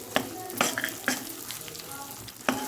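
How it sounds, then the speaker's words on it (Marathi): Edible gum is fried with wheat flour in ghee over a low flame, a continuous gentle sizzle broken by several sharp spoon scrapes and knocks against the pan. "डिंक आपण मस्त मे कमी फ्लेमवरतीच मस्त याच्यात फ्राय करून घ्यायचं आहे तुपामध्ये"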